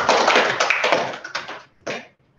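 Students in an online Zoom class break into a short burst of clapping that thins out and stops, then one last brief flurry of claps follows.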